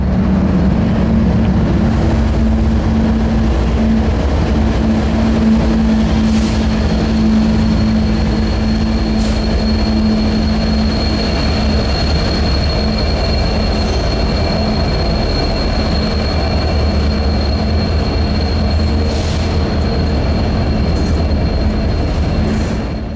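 A CP freight train led by an SD70ACu locomotive rebuilt by Progress Rail rolls past in Florida's Bone Valley: a continuous loud rumble of engine and wheels with a low drone and occasional high squeals of the wheels, heard throughout.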